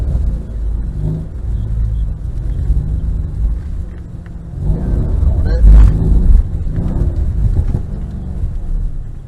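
A Mercedes-Benz car on the Mercedes-Benz World driving track: a steady low engine rumble swells into a louder throttle blip about two-thirds through, then settles back into a continuous drone.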